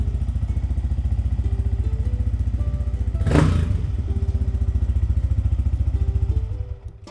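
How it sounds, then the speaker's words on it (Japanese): Single-cylinder motorcycle engine fitted with a Yoshimura muffler idling close by with a crisp, rapid steady thump, a brief revving rise near the middle, then settling before the sound cuts off. "これも単気筒なんで歯切れがいい音ですよね。 ただこいつはやっぱりこの吉村のマフラーが入ってるんでやっぱいい音ですよね。"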